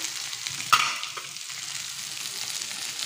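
Cabbage, beans, carrot and capsicum frying in a pan give a steady close sizzle, with a single sharp clink of a spoon being stirred early on.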